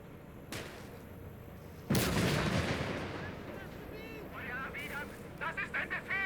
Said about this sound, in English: Oh, it's a mortar tube.